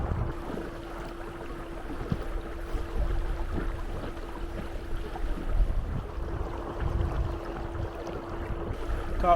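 Small dinghy outboard motor pushing a boat across a channel through light waves on a lake, a steady low drone beneath wind buffeting and water splashes, moderately faint and without talk.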